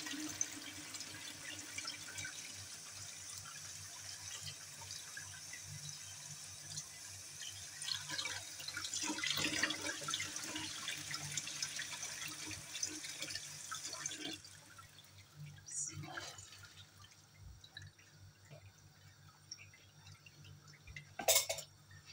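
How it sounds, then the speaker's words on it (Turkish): Soaked wheat for ashure is washed in water, and the dark rinse water is poured off. Water swirls and splashes steadily up close, then thins into drips and trickles. "Bir daha yıkayıp şöyle kara suyu atıyorum."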